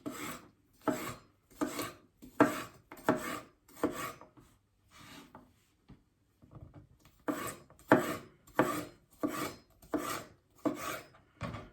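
A knife slices a pepper on a cutting board for a Cajun vegetable wrap, a run of close, rasping cuts in quick bursts with a short pause midway, no talking.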